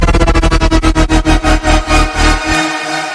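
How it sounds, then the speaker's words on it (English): Synth group in a heavy electronic dubstep-style remix, its volume pulsed by an autopan effect into a rhythmic throb that speeds up steadily over three seconds, then drops into a quieter tail, loud with no talking. "So it's just modulating the volume of your group right here"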